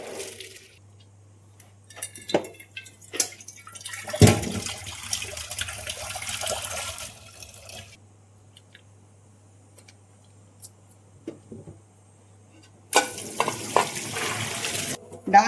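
Water drains from washed lentils poured into a mesh strainer, bursts of splashing and trickling separated by quiet gaps.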